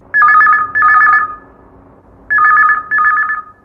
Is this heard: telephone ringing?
yes